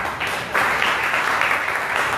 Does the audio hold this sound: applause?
yes